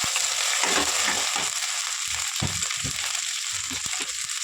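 Ginger paste frying in a pan for Andhra-style mutton liver curry, a steady loud hiss of sizzling oil throughout with intermittent soft scraping and stirring knocks underneath.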